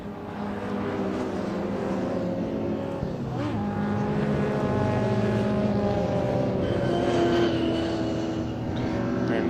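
Racing cars including two TVRs at Thruxton circuit, a continuous loud roar of engines with rising and falling pitch as the cars pass, sustained throughout under faint commentary.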